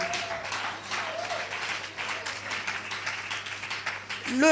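A church congregation applauds and cheers, a moderate rolling patter of clapping that swells and dips, with a voice breaking in at the very end.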